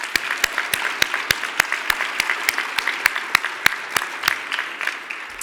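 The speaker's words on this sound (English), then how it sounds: "Let's give them another big round of applause." Applause from an audience at a Forty Under 40 honorees event, a steady wash of many hands clapping, with sharper individual claps spiking through the crowd sound for its whole length.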